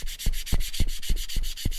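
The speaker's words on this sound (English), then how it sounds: "you're going to take your sandpaper and you're just going to do a very light sanding" Sandpaper rubs lightly back and forth over wood in a quick, even rhythm, a close scratchy hiss repeating about every quarter second.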